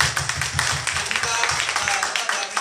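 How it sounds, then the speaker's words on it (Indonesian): Audience applause at an Indonesian gathering for Prudential insurance agents, a dense patter of clapping from a crowd, fairly close and steady throughout with speech-like voices mixed in underneath. "Aplaus untuk kalian dulu teman-teman"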